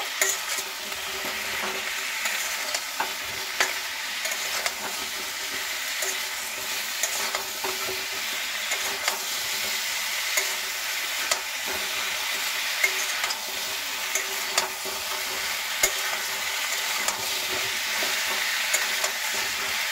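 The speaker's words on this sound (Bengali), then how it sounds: "কুমড়ো আর আলু একসঙ্গে কিন্তু বেশ কিছুক্ষণ ভেজে নেব" Pumpkin and potato fry together in hot oil for a fish-head curry, giving a loud, continuous close sizzle with faint stirring ticks throughout and no voices.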